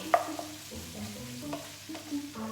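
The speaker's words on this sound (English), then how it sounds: "Our meat is really nicely browning." Ground beef for a taco salad browns in a pan, a soft low sizzle with a few faint scrapes and clinks of stirring, quiet and close.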